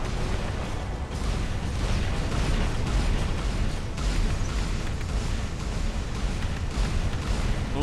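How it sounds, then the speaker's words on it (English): Airstrike explosions in the War Robots video game form a dense, continuous barrage of loud booms and rumbling blasts that never lets up. "Airstrike, that should be it."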